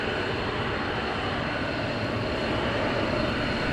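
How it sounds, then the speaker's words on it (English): F-15 jets taxiing at RAF Lakenheath, a continuous broadband engine roar that holds steady and loud throughout, with no voices. "And we have more jets taxiing out, more 494 taxiing out at the moment"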